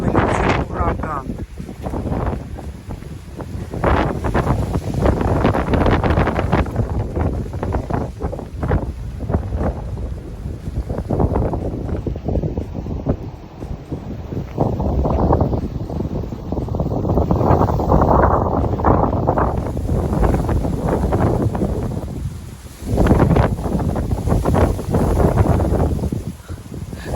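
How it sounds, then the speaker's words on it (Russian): Strong typhoon wind buffets the microphone on Miyakojima island, Okinawa, a continuous loud roaring rush with surging gusts throughout, and a voice talks briefly over it. "На Окинаву налетел ураган."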